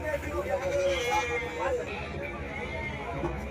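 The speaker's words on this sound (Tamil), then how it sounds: "இந்த வண்டியில் மட்டும் அப்படியே இருக்குது ஆடு." Ongole Judipi goats are held in a vehicle at the Gudur livestock market, bleating repeatedly over a steady din of crowd babble and nearby talking.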